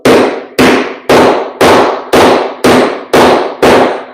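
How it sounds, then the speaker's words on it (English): Eight sharp, evenly spaced hammer blows ring out about twice a second, loud and close, while framing a laundry room wall with drywall nearby; no talking. "I'm gonna hammer them"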